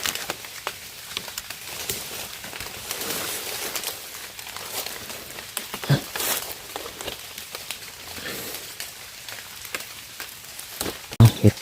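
Rain patters steadily on leaves and the forest floor in the Nong Mek woods during mushroom picking, a soft continuous hiss with scattered drips and a few sharp close knocks near the end.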